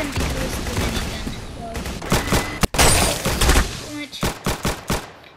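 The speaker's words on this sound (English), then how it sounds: "Dumb minigun takes forever to shoot." A minigun fires in a video game, loud and close: a dense burst of rapid gunfire, a brief cutout, then more firing ending in a string of separate heavy shots, with a voice speaking over parts of it.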